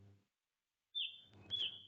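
A single songbird gives two short, bright chirping calls, each a quick clear note standing alone against silence.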